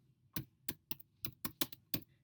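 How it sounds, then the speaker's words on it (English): Computer keyboard typing in distinct, well-separated keystrokes, about eight crisp close taps at an uneven pace over near silence, no voices. "So you could type"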